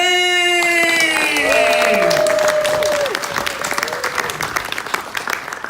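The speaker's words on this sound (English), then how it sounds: "let's make a lot of noise for Mr. Mark James!" A theme park show crowd at Universal Florida claps and cheers steadily, with rising and falling tones drifting over the applause.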